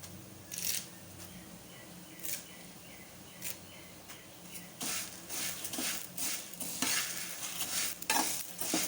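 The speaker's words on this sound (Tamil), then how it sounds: "இந்த உளுந்தோடையே போட்டு வறுத்துடலாம்." Urad dal and curry leaves roasting in a pan for idli podi, with a soft continuous sizzle and repeated scraping stirs of a spoon against the pan, close up and moderately loud.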